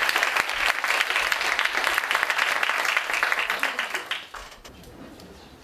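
Audience applause at the awards ceremony of a national high school biosafety and bio-industry debate competition, a loud, sustained burst of clapping that gradually fades away toward the end.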